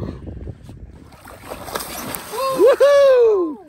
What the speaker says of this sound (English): Oh, I got that splash in the sunshine.